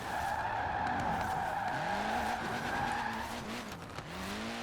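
A Ford Puma sliding sideways in Forza Horizon 4, with loud sustained tire squeal and wavering skid tones over a steady engine drone, no talking.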